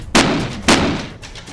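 Two loud gunshots in the video game Game Guru while shooting zombies, about half a second apart, each with a short echoing tail, followed by faint clicks.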